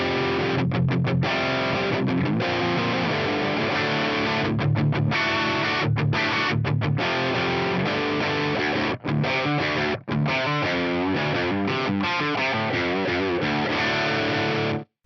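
Electric guitar through a Yamaha GEP 50 effects unit on its chunky rhythm distortion preset plays dense, saturated chords with abrupt muted stops, loud and alone.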